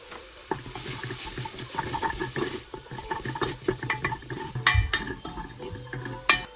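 Chili powder, garam masala, turmeric and coriander powder being sautéed for a pressure cooker chicken biryani, with steady stirring scrapes and a soft sizzle running throughout, plus a few sharper clacks of the spoon against the pan.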